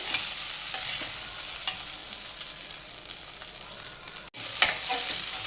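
Kurdai bhaji being stirred and mixed in a hot pan, a close, steady sizzle with soft scraping strokes and a brief pause near the end.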